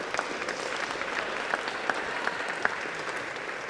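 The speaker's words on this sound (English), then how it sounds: "Give them a round of applause." Applause from a small audience at a hack-event demo session for the grads team, steady clapping with a few sharp louder claps standing out, moderately close and without speech.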